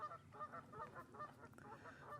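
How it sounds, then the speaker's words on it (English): Geese honk repeatedly on Crummock Water in the English Lake District, a string of short, faint calls at a distance over a soft outdoor background. "geese are off again"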